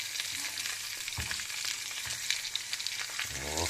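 Meat sizzles and crackles steadily in a hot pan, a soft constant frying hiss with occasional pops and a clatter near the end.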